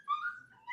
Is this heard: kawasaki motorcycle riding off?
no